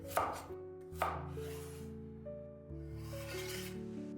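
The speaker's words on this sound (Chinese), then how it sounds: "切成滚刀块，这样方便成熟" A kitchen knife roll-cutting a carrot into chunks for corn and pork rib soup lands two sharp chops on the board, each with a brief scraping tail, over steady background music.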